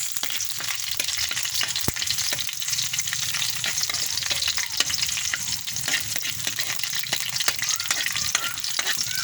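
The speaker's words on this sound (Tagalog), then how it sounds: "Okay, gawin nating maging brown yung ating bawang" Garlic fries steadily in hot oil with a dense, even sizzle that runs unbroken throughout, close and bright, with occasional soft clicks of stirring.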